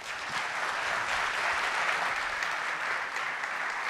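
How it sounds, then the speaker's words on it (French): A conference audience applauding teenage presenters at a developer event in Nantes: a continuous, dense wash of many hands clapping, steady and moderately loud throughout, with no talk. "Applaudissez."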